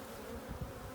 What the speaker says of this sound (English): Bees are getting testy.